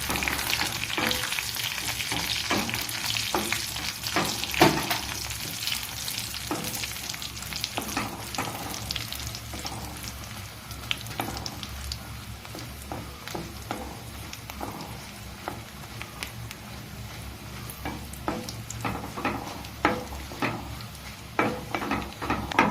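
Dried red chillies frying in a pan are stirred continuously, a loud, close sizzle with repeated scraping and clattering strokes running through the whole stretch.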